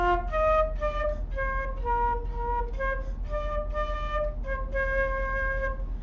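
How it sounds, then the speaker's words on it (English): Flute playing a gentle melody of clear, breathy sustained notes, moderately quiet and close, with short gaps between phrases and a soft airy background. "So that is the flute."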